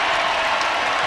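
A crowd roars and applauds at an LSU vs Alabama women's college basketball game, a dense, loud swell of cheering and clapping filling the arena for the whole short moment.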